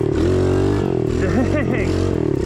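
A cheap dirt bike engine revs in first gear, a loud, close, buzzing drone with rising and falling rev sweeps in the middle, under a voice talking.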